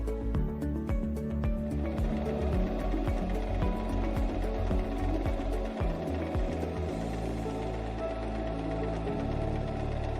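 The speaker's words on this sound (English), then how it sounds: "step on the foot control to start sewing" A portable mini sewing machine runs a straight stitch, giving a steady mechanical whirr with rapid repeating needle clatter, close and fairly loud, which settles into an even hum toward the end.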